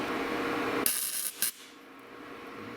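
A cheap flux core welder striking a short tack weld, a sharp crackling hiss that bursts on, sputters briefly twice, then cuts out to quiet, no talk.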